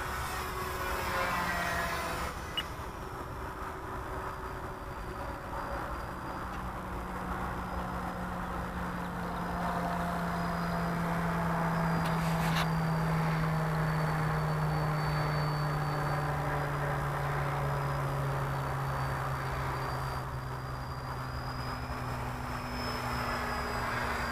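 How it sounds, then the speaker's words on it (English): A Grand Cruiser RC model airplane makes a high-speed pass at full throttle, a sustained propeller drone that rises and falls in pitch as it sweeps by at moderate distance over steady outdoor background noise. "We'll try a pass here in front of us again. High speed. Alright, there's maximum throttle."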